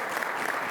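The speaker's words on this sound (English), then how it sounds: "Please give her a round of applause." A university press-conference audience claps for a guest, heard as a brief burst of dense, even applause with no voices over it.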